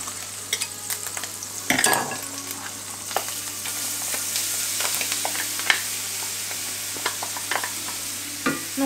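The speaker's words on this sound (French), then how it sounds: "on fait dorer l'ail correctement" Chopped garlic fries in fat in a pan with a steady close sizzle, broken by occasional utensil clicks and one sharp stir.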